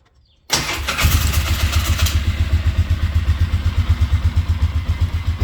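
A 24-year-old quad ATV engine cranks on choke, catches sharply, then settles into a loud, steady idle with a fast, even pulsing beat.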